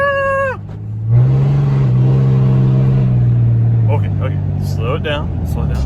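A truck on Goodyear Fierce Attitude mud-terrain tires is driven hard, its engine surging into a loud, sustained roar after a brief pause, while excited voices shout over it.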